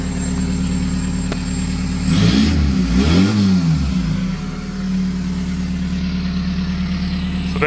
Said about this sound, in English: Give her a little rev here.